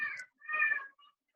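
A voice imitates a cat, giving two short nasal meows close by against near silence, with a faint trailing squeak afterward.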